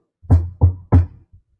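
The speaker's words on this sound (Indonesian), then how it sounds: "Yesus hanya berdiri di depan pintu dan mengetuk" Three firm knocks on a wooden door, close and evenly spaced, followed by a faint fourth tap, with silence around them.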